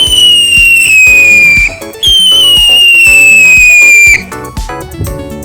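An Uncle Sam style firework shoots out fire with loud, close whistling shrieks that slide slowly downward, broken by crackling bursts and sharp pops.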